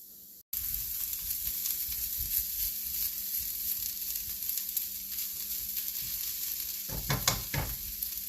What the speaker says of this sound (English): Now we can hear that sizzling start.